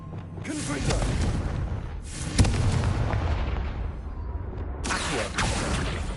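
The Confringo blast spell goes off in Hogwarts Legacy, giving a rumbling, fiery burst that swells, fades and returns, with a sharp crack near the middle over a steady game background.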